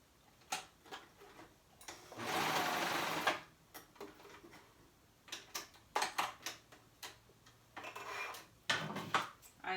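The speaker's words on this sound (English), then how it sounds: "I love my cover stitch. I think it gives it like such a neat look when you have the double needle." Cover stitch sewing machine running a double-needle seam in short bursts, with rapid mechanical stitching whirs between quiet gaps and small clicks and taps of fabric handling close by.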